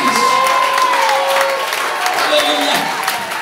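A church congregation claps their hands in worship, producing a dense, continuous wash of applause and crowd noise with voices mixed in throughout.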